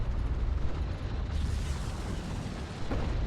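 Explosions rock an allied carrier under fire in the Homeworld: Deserts of Kharak strategy game, a dense continuous roar of booms and blasts with a sharper burst near the end, no voices.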